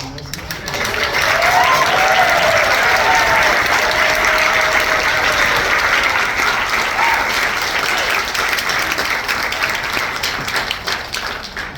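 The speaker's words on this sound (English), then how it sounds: "please give one final round of applause to congratulate our incoming nursing students" A large audience at the 2023 University of Hawaii at Manoa nursing pledging ceremony gives incoming nursing students a long, loud round of applause. Dense, sustained clapping swells early, holds steady, then gradually thins toward the end.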